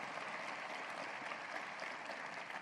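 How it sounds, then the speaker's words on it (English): An audience at Old Dominion University's 2023 State of the University address applauds the board leaders in a continuous, even spray of clapping, faint and distant, with no other sounds standing out. "Please join me in giving them a hearty round of applause for their dedicated leadership and selfless service"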